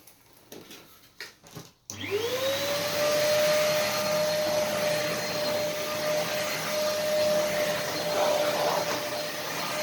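An Arzum Practical vacuum cleaner is switched on after a few handling clicks, and its motor whine quickly rises to a steady, loud, high-pitched roar. The roar continues unbroken for several seconds, as if it is about to clean carpet.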